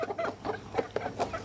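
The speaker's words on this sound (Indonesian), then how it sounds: "ini ada ayam-ayam saya nih ya teman-teman semua" A small flock of backyard chickens kept by a home farmer clucks close by, a busy run of short, overlapping clucks and murmurs in an irregular rhythm, with no talking.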